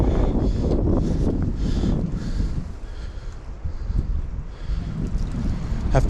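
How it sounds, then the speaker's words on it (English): Wind gusts past a lakeshore in Rocky Mountain National Park, a steady low buffeting rumble that rises and falls across the whole stretch with no voices. "to get away from the wind"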